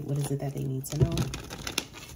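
Tarot cards being shuffled by hand in short papery riffles and flutters, close up, with a voice speaking over part of it.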